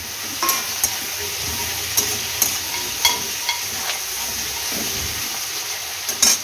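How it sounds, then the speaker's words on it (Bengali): Onion and tomato fry in hot oil in a pan, a steady close sizzle with soft periodic stirring scrapes and taps, no talking. "এবারে এগুলো একটু ভাজা ভাজা হতে থাক,"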